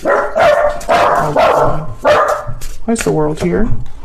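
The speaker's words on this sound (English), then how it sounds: "Sorry about my dogs." Dogs bark repeatedly in the background, a run of sharp barks and yips through the middle and end, under and between a woman's speech.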